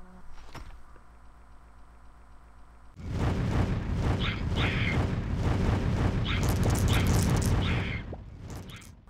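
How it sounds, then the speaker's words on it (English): Fireballs launch in the tower defense video game Save the Cave: quiet game tones give way to a loud, sustained burst of rumbling, crackling effects with repeated bright bursts layered on top, then a fade at the end. "Let's try out these fireballs."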